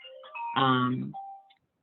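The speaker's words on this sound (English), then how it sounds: "excuse the phone in the background" A phone rings in the background with a short electronic ringtone melody of clear pitched notes lasting about a second and a half, then it falls silent.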